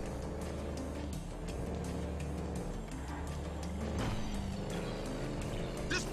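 A motorcycle engine drones steadily during a chase in GTA 5, its loud continuous roar mixed with road-vehicle noise and small rises in pitch, close and without a break.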